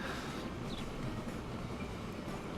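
Trains running on a busy main line in the railway management game Transport Fever, a steady rumbling roll with a faint squeal, no voices.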